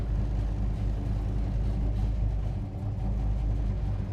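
A 1969 Dodge Super Bee engine idles with a steady, deep, loping rumble, close and continuous without stalling.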